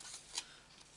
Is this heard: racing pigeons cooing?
no